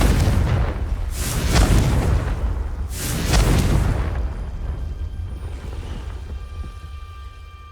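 Confringo spell blasts in Hogwarts Legacy, two deep booming explosions about a second and a half apart, loud and close, each trailing into a long rumbling decay with no voices.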